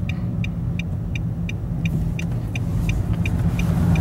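Inside a Nissan Note e-Power Nismo driving in normal mode, a steady low cabin rumble with road noise carries on throughout, with a faint, regular ticking above it.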